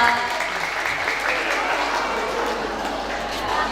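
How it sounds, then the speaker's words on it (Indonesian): Steady applause from a crowd at a school traditional gamelan music (karawitan) exam, clapping continuously and fairly loud throughout with a dense, even texture. "Pas juga tepuk tangan untuk kakak kita."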